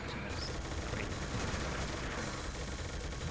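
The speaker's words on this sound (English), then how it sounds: "that's just a heavy machine gun" Dense, continuous heavy machine gun fire in the shooter game Doom, a steady rapid rattle of rounds holding at an even level for a few seconds with no talk.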